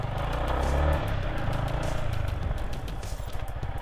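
Off-road motorbike engine running and revving on a rough trail, a steady loud throaty drone with rising and falling throttle that fills the whole stretch, close by, with faint clatter.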